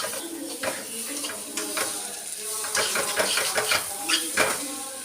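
Spice powders roasting in a pan for a quick egg curry, with a soft sizzle and repeated scraping, clinking strokes of a spoon stirring against the pan, fairly close and steady.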